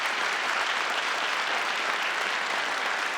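Studio audience applauding as a guest named Claude is welcomed on a local Lac-Mégantic TV program, an even, continuous round of clapping that stays loud and uniform for the whole stretch.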